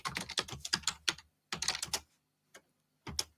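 A credit card number being typed on a computer keyboard, with quick bursts of close key clicks broken by short pauses and a few isolated taps at the end, with nothing else in the background.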